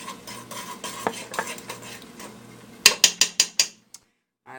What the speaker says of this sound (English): I should definitely be using the spoon so I'm not scratching up my pan